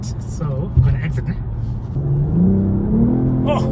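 BMW M440i, 2024 model, engine revving hard under acceleration in a fast-lane run, a rising, droning growl that builds and swells from close inside the car, with brief voice sounds early on.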